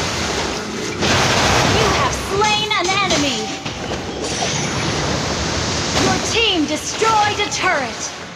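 Ocean surf in the Mobile Legends battle game washes as a broad constant hiss of waves, with character voice lines and game effects chirping over it.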